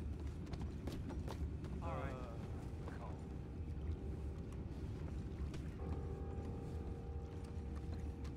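Horse hooves clip-clop in Red Dead Redemption 2, a faint rapid patter under a steady background hum, with brief voices speaking partway through.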